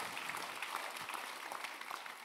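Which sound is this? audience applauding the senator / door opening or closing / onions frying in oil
audience applauding the senator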